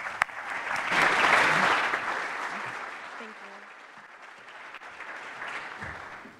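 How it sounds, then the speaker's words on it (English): Round of applause from a conference audience welcoming a keynote speaker on stage, swelling quickly to a broad wash of clapping and then fading gradually to a softer, thinner patter. "let's get a round of applause"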